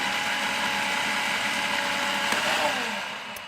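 A Cuisinart 8-cup food processor running on low, a steady whirring motor drone with a faint mechanical rattle that continues evenly before easing off near the end, with no talk.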